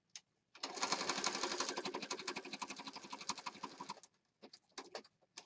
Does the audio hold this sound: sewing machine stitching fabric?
yes